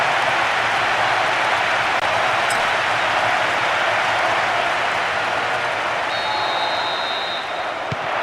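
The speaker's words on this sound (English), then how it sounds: "you can hear the relief from the crowd" A stadium crowd roars steadily in the PES 2010 football video game after a goal, a broad, continuous wash of cheering and applause that holds at an even level throughout.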